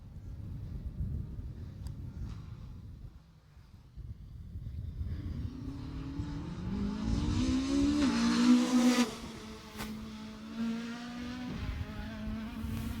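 A rally car approaches at speed along a narrow tarmac stage of the 2018 Jersey Rally. Its engine note climbs in pitch and loudness from a distant buzz to a close, screaming pass, then settles into a steady drone over outdoor ambience.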